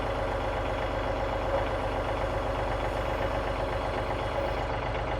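A tractor engine runs at a steady idle, a continuous low rumble close by, alone with no talking, while forks lower a truck tailgate.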